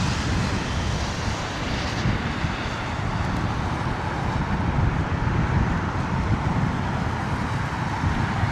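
Embraer regional jet braking hard on the runway after landing at Heathrow in wet, windy weather, a continuous broad roar of engine and reverse thrust, fairly distant and steady, mixed with wind.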